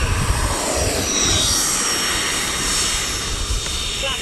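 A radio-controlled F-14 model jet takes off from a runway with flaps out, its electric ducted-fan engines giving a loud, steady, close-up whine and rushing roar that holds strong throughout.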